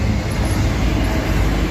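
Union Pacific freight train passing close by, a loud dense rumble and rattle of rolling wagons filling the short stretch with steady noise.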